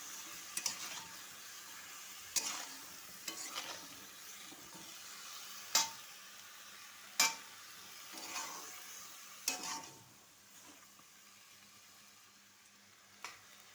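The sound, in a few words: stirring a cucumber mixed vegetable curry in a pan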